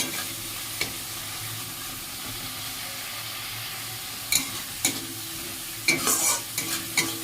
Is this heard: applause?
no